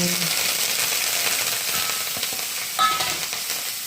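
Cumin seeds sizzling in hot oil while tempering for a potato curry, a steady bright frying hiss with occasional stirring scrapes and a brief clatter.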